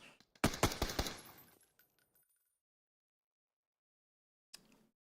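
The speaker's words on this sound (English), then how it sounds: "He didn't stop shooting." A burst of rapid automatic gunfire from an enemy player in the battle royale game PUBG, several sharp cracks in quick succession, then a few fading tails, near-silence, and one short final report.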